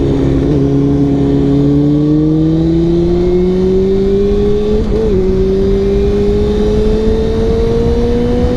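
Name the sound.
Kawasaki ZX2R motorcycle engine revving while riding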